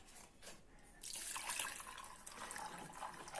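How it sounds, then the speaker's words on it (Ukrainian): Water running from a tap and poured into a container while making a no-bake, sugar-free cold cake; a quiet start gives way to a steady, close splashing stream that continues to the end. "потрібно залити водою"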